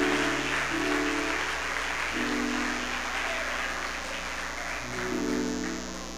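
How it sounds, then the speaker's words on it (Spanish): Applause from a church congregation during an evening Spanish-language service, a dense continuous wash of clapping that stays steady and fairly loud throughout, with music or voices faintly underneath. "Suéltale un aplauso a Dios con vida"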